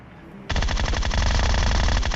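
A Groza assault rifle fires in PUBG Mobile, one sudden sustained burst of rapid automatic shots that starts abruptly after a short quiet lead-in and rattles on loud and close until the end.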